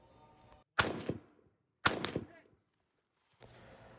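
Rifle shots ring out on a shooting range while targets are engaged, two sharp loud cracks about a second apart, each with a short ringing decay, followed by quiet background noise.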